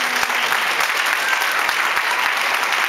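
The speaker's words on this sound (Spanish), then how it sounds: "Denle ese aplauso al Señor Jesús." Church congregation clapping together in a dense, steady burst of applause that fills the space for a few seconds.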